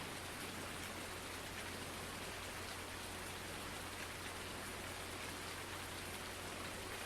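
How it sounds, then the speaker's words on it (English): Steady rain falls in the farming game Farming Simulator 19, a constant even hiss of drops on surfaces, soft and unbroken throughout, with no voices. "Are you kidding me? Rain again?"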